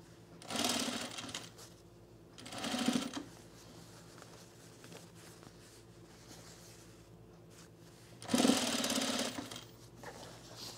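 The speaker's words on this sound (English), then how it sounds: "And you're just going to sew it on." Sewing machine stitching a men's utility jacket in three short bursts, each a second or so of close, steady mechanical whirring, separated by quiet pauses with faint room hum.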